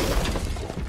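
In the Minecraft Dungeons video game, a llama gets smashed: a dense, loud shattering crash that fills the whole brief moment, with no talk.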